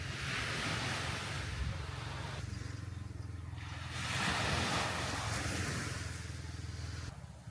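Sea waves washing onto a beach at night under a full moon, a steady broad roar of surf that swells and recedes, with some wind noise and no talking.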